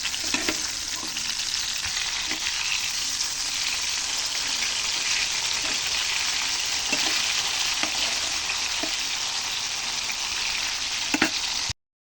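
Pieces of pangas fish fry in hot oil, giving a steady, close and loud crackling sizzle that runs unbroken through the whole stretch, with a few sharper pops and spatters and no one speaking.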